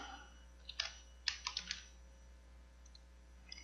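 Computer keyboard keys pressed for a copy shortcut and then Enter, giving a few quick, light plastic clicks in short clusters over quiet room tone, with no speech.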